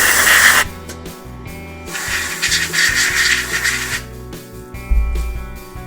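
A can of compressed air duster blasts a short hiss into the inside of an open game controller, then fades to quieter rubbing and handling noises, with another brief burst near the end.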